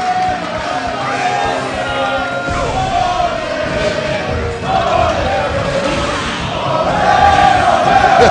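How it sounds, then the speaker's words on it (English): A large crowd at an EVO fighting game tournament for King of Fighters XIII roars and yells continuously, swelling louder near the end, with a commentator's voice over the noise. "the crowd really getting into it over here"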